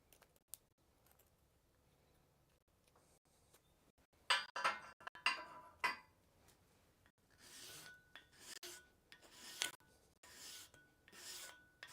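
A worn metal file rasps in a blacksmith shop: faint, scattered strokes at first, then clusters of short scraping passes, fairly quiet and without speech.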